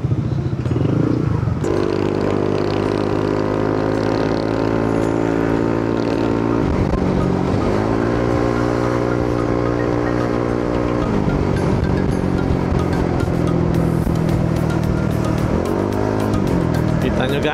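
A Honda ADV 160 scooter cruises along a quiet Sunday road, its engine droning steadily and loudly throughout, with pitch rising and falling through several gear or throttle changes and wind rush over the top.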